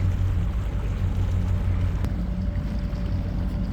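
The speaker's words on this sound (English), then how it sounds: "A couple of striper boats leaving the boat dock, and they're heading south towards the dam" Steady drone of striper fishing boat motors heading away across Lake Lanier, a continuous low rumble over open water with no voices.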